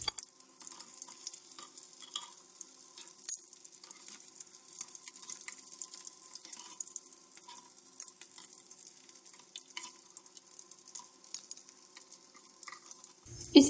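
Beef handi kebabs fry in a pan with a soft, steady sizzle and faint hiss. The quiet crackle runs throughout, with a brief clatter near the end.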